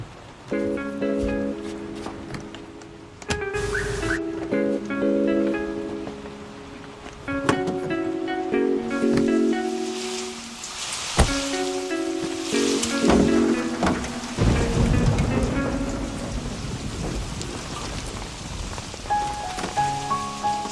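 Steady rain from a dubbed Hindi action film scene (Pushpa 2: The Rule) pours under a loud, dense musical score, with occasional low rumbles that may be thunder; the rain hiss stays constant throughout.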